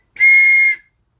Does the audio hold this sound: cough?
no